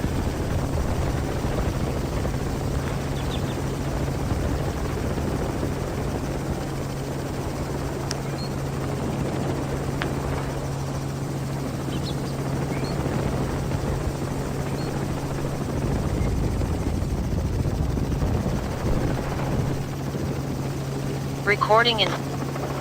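A helicopter drones steadily in flight, picked up on a remote chopper feed, a continuous low throbbing rotor hum throughout, with people talking over it.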